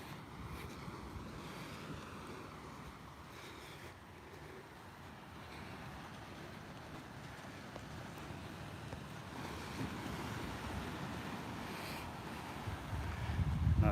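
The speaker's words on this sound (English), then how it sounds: "The seas are really, really calm, but there are some waves and you start hearing it." Calm ocean waves washing onto a beach on a windless morning, a continuous soft broadband wash with gentle swells and faint wind noise, steady throughout with no voices.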